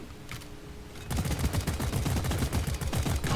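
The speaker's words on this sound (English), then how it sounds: "I'm shooting a Praetorian." Rapid automatic gunfire from the video game Deep Rock Galactic, aimed at a Praetorian; a quiet lull for about a second, then a loud, dense burst of repeated shots that runs steadily to the end.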